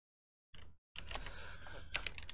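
Short burst of typing on a computer keyboard while entering a Terraform deletion protection setting, a brief flurry of clicks, a pause, then steady close key taps with a few louder strokes.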